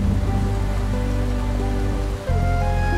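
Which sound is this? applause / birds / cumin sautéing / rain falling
rain falling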